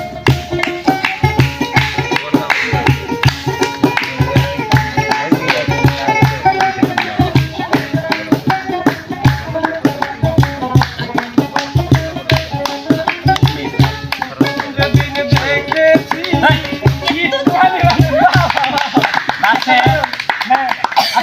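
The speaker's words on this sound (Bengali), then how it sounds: "সবাই একটা হাততালি" Rapid, continuous hand clapping from a group of people runs throughout, loud and rhythmic, with voices talking over it at times.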